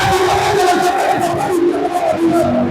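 A church congregation at a Sunday worship service cheers and acclaims God together, a dense, loud wall of crowd voices and shouts sustained without a break.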